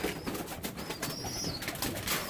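Pigeons coo softly inside a loft, low murmuring calls repeating faintly over a quiet background.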